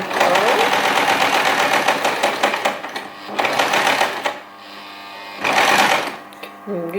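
A basic domestic sewing machine stitches a fabric seam in bursts, running steadily for about three seconds, pausing, resuming, then a final short run after a quieter gap, with faint speech between runs.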